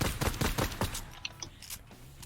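Rapid bursts of video-game gunfire shooting down an opponent's builds, several quick shots in the first second, then sparser cracks fading into lighter game sounds.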